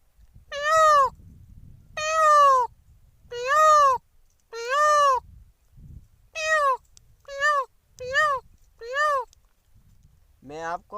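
A man vocally imitates a peacock's call in a series of loud, wailing, meow-like cries. They start evenly spaced, then come faster in shorter bursts over faint background noise.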